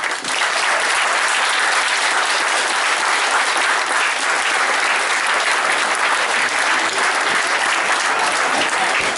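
An audience at an adult cosplay costume contest in Cusset, France, gives sustained, loud applause, many hands clapping in a dense, continuous wash that lasts several seconds with no speech over it.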